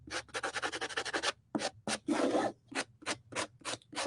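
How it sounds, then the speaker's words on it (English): Chunky craft stars are sanded by hand, with rapid close scratching strokes in bursts, one longer rasping pass, then slower separate rubs, each loud and crisp against silence. "So you just sand them to the point of whatever you want to see."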